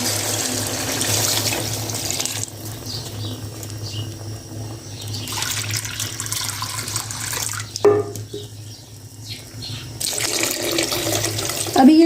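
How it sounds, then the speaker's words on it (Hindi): Tap water running and splashing into a pot of soaked rice for aloo biryani, a continuous loud rushing stream that stops and restarts a few times in a home kitchen. "अभी ये चावलों के लिए मैंने पानी डाल दिया है।"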